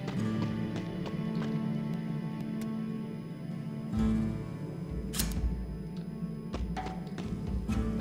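Horse mount's hooves in the online game Fallen Earth, a steady clip-clop of footfalls over a busy game soundscape with low ambient hum and occasional clicks, fairly close.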